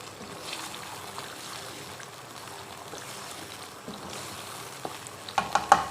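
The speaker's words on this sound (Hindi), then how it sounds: "पहले हम इसको इसमें मसाले में ज़रा भून लेते हैं।" Kaleji (liver) frying in masala in a pan, a steady low sizzle with soft stirring, ending in a few sharp scrapes of a spoon against the pan.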